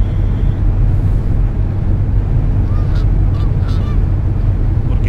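Farm animals honk, cluck and call in a bus simulator game, faint bird-like cries over a steady low rumble of a Neoplan Skyliner coach engine and road noise, with no talk.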